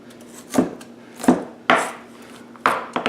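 Three thick slices of a large yellow onion set into a dish one at a time, each landing with a distinct close knock or thud against the dish, spaced about a second apart.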